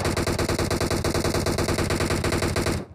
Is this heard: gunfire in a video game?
yes